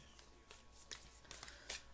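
Tarot cards are shuffled up close in a quiet room, making a few soft, quick riffling bursts with brief pauses between them.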